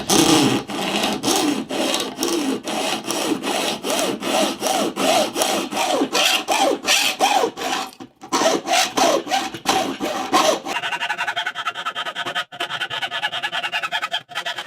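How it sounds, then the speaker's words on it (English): A hand saw cuts back and forth through a wooden classical guitar bridge, steady rhythmic rasping strokes close up, shifting to a finer, denser scraping near the end. "I need to cut this in half"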